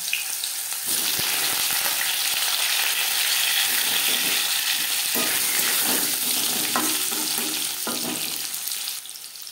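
Potatoes frying in hot refined oil with panch phoron in a cabbage curry, a loud, continuous close sizzle with occasional spatula scrapes and stirring clatter.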